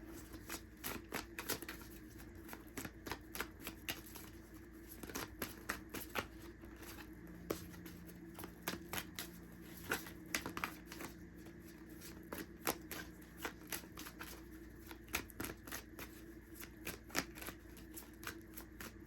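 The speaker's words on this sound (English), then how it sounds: "one of the cards had flipped over as I was shuffling" A deck of tarot cards is shuffled by hand, producing close, rapid riffling bursts and soft slaps that repeat in uneven runs throughout, with no talking over them.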